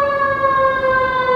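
A large fire truck's siren, loud enough to resemble a nuclear alert, holds a steady, piercing tone close by for the whole moment.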